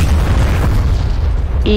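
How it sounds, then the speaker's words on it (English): A loud, deep explosion rumbles in a combat flight simulator mod, a sustained low boom that fills the moment before a brief tonal beep cuts in at the end. "God, I love those explosion sounds."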